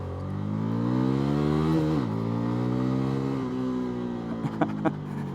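A CFMoto CLC 250 motorcycle with a 250 cc engine accelerates in first gear, its engine note rising steadily, dipping briefly as revs shift, then climbing again, with a few clattering knocks near the end.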